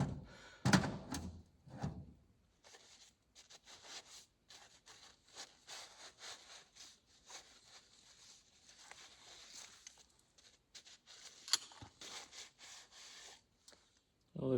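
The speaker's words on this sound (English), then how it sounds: "We'll keep honing a little bit more" A brake cylinder from a 1957 Ford F600 dump truck is honed with a quiet, rasping scrape that comes in intermittent runs, with soft knocks and pauses between them.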